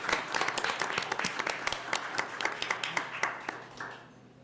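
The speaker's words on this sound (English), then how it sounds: "Come on, guys, give a round of applause for that information." Applause at a Kankakee School District 111 board meeting, a smaller group clapping with separate sharp claps clearly audible, close, gradually thinning and fading out near the end.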